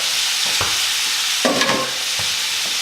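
Asparagus sizzles in melted butter in a pan, a steady hiss broken by a few short scrapes and knocks as a utensil stirs it.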